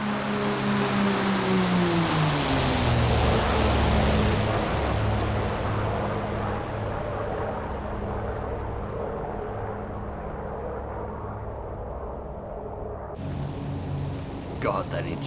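A loud Spitfire LF Mk. IX piston engine in the flight game DCS World drones continuously, its harmonic growl shifting in pitch as it roars past, with a brief faint sound near the end.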